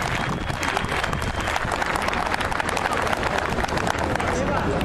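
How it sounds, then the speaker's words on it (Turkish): Dense, loud audience applause at the opening of a Kemah tournament ceremony as a guest is invited to the stage, a sustained rapid patter of many hands with crowd murmur underneath. "Sayın Şerafettin Türkü kuvvetli alkışlarınızla sahneye davet ediyorum efendim."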